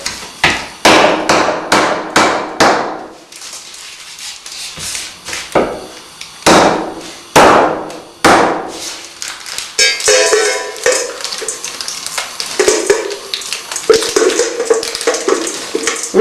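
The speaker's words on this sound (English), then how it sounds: "So grab a rolling pin and you smash it." A rolling pin smashes a bar of milk chocolate, with a rapid run of sharp, loud thuds and cracks early on, then scattered heavier blows and scraping, crumbly rustling as the pieces break up.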